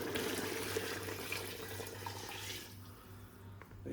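Tap water runs steadily into a cooking pot holding onions for Indian restaurant-style base gravy, a continuous close hiss that thins and fades toward the end.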